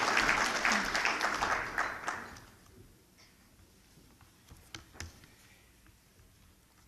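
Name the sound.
audience applause at chamber of commerce dinner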